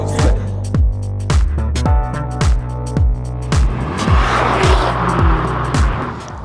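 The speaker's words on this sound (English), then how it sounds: "A lot of wheel spin." A hot hatch spins its wheels hard, the engine hammering in rapid rhythmic pulses against the limiter while tyres squeal, loud and close throughout.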